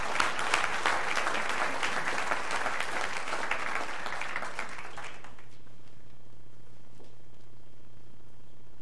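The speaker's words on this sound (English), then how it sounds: "So one last round of applause and congratulations to everyone." Applause from the room at a city council meeting, a lively burst of clapping that carries on for about five seconds before dying away into quiet room tone.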